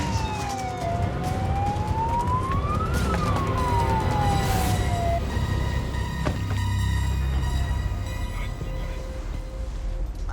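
An emergency vehicle siren wails in Australia, sweeping up and down in pitch before tailing off into a lower tone, loud over steady road and engine rumble.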